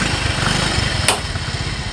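Hotwired battery-operated motorcycle engine idling close by with a steady rapid chugging putter, a brief sharp click partway through.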